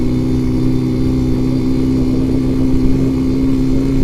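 Suzuki A100 motorcycle engine labouring under load in fourth gear, a steady close drone with strong low harmonic tones and a faint rise in effort, no talk over it.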